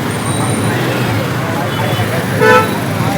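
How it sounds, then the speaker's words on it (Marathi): Heavy road traffic runs as a dense, continuous roar, with a short horn toot near the end and fainter honks earlier. Voices are mixed in with the traffic. "फुल ट्रॅफिक आहे."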